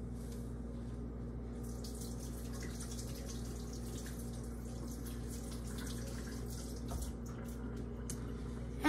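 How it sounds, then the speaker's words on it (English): Hands are washed under a running tap in a lab setting, with a soft continuous patter of water into a sink that stays fairly quiet and steady. "I'm going to go ahead and wash my hands."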